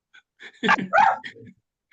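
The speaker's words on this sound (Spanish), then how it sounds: "voy a dejar que el perro de Rafael Espinosa siga hablando" A dog gives a few short barks and yips close by, loud and clustered together, with whimper-like edges and no speech.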